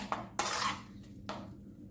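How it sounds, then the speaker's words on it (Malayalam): Metal pots and dishes clatter as a banana stem pachadi is moved into a bowl, with three distinct clanks and scrapes, the second longest, over quiet room hiss. "പിന്നെ നമുക്ക് ഇത് പാത്രത്തിലേക്ക് മാറ്റിയാലോ"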